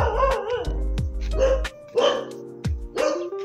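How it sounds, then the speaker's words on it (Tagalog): Several dogs barking outdoors in a Tarlac neighborhood, a close run of sharp repeated barks and yips with short gaps, loud and alone without talk. "Daming aso dito guys."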